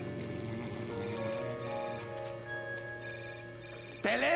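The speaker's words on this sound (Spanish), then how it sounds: "¡Teléfono!" A telephone rings indoors in a Spanish sitcom scene, its bell sounding in repeated short bursts, fairly quiet against room tone, before a loud voice breaks in at the end.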